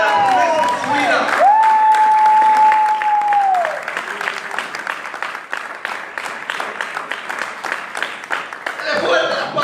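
A church congregation claps hard during an evangelical service, with a sustained whistling tone over the first few seconds, then steady rhythmic clapping that continues under a preacher's voice.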